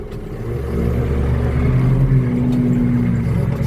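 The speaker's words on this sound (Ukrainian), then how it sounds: "Так, розвертаю свій трактор." A heavy tractor engine drones steadily up close while the tractor turns in a field, a low throbbing hum that shifts slightly in pitch as it works, with no talking.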